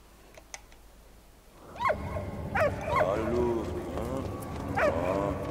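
A dog barks several times in the World War One video game Valiant Hearts: The Great War. The sharp, fairly close yelps are spaced irregularly over rumbling in-game background sound.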